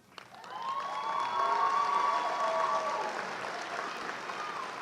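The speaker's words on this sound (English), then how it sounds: "Let's give these students a round of applause." A commencement audience applauds honor students as they receive medallions on the platform; steady crowd clapping swells within the first second, holds full and dense, then eases slightly while continuing to the end.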